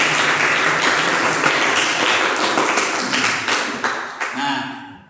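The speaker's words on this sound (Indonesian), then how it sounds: "Baik, terima kasih, kita kasih tepuk tangan dulu." Indonesian classroom students clapping their hands together in a loud, dense burst of applause that thins out and fades toward the end, leaving a few scattered claps.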